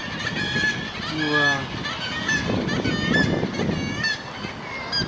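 A seaside colony of seagulls, many of them young, gives repeated harsh crying calls that overlap at moderate distance, while a person makes a brief exclamation.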